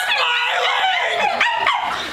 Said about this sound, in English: You're making my dog really upset.